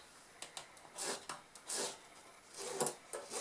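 Fabric is traced and cut for a Mary Poppins–style doctor bag, with soft scratchy strokes and scissor-like rasps in irregular bursts, quiet and close, with no talk.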